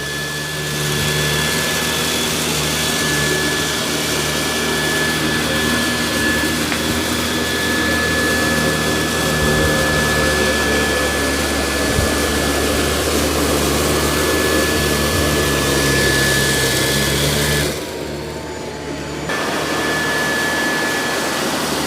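A robot vacuum cleaner in auto mode with its suction ramped up, a loud steady whirring hum that holds for a long stretch, briefly dips, then resumes.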